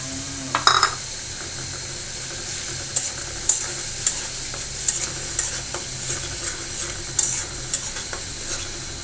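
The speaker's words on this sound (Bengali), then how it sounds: "পরিমাণ মতো হলুদ গুঁড়া মরিচ গুঁড়া দিয়ে ভালো করে কষিয়ে নিচ্ছে" Turmeric and chili powder sizzle in hot oil in a pan while a utensil stirs and scrapes against the metal, with regular knocks and clinks over a steady frying hiss, close and clear.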